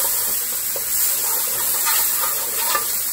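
Chopped jalapeno sizzles and crackles in a hot pan, a steady frying hiss with small pops and a light stir, close and continuous with no talking.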